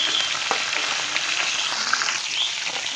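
Fish fries in a pan with a loud, dense, continuous sizzle and scattered small crackles, close up and uninterrupted by speech.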